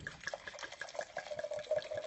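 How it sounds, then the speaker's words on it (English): Red wine, a 2008 red blend, poured into a wide-bowled glass: a steady, close liquid trickle and gurgle lasting about two seconds with no talking. "So, pour about 4 ounces into your glass."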